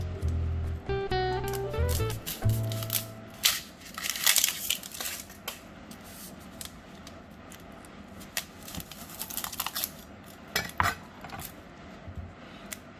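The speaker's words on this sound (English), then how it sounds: "So what you do is you cut the onion in two." A knife slices through an onion in a home kitchen, giving a few crisp crunching cuts and clinks on a board, then scattered softer handling clatter; close and fairly loud, no talking.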